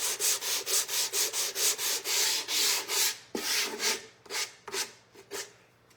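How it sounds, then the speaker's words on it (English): Sandpaper rubbed back and forth over a wooden birdhouse to remove dried glue, a quick run of close, steady scratching strokes that turn slower and more spaced toward the end, with no talking. "I got a little bit of glue right there so we can sand that."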